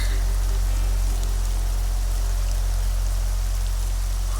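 Heavy rain pours down in a Malayalam film scene, a dense, steady roar over a low hum that continues unbroken throughout.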